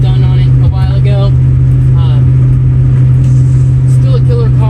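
A 1963 Ford Falcon with a new, heavier timing chain and redone exhaust, heard from inside while driving: a loud, steady low engine drone runs throughout, with someone talking over it.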